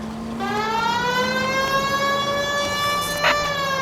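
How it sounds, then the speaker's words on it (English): A loud police car siren in the video game L.A. Noire wails steadily with rising and falling harmonic tones, sounding close and continuous, with a brief sharp click near the end. "Hit the siren."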